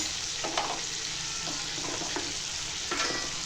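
Heralekai citron pieces frying in oil for pickle, stirred with a spoon: a steady background sizzle with several soft scraping stirs against the pan, close and alone with no talk.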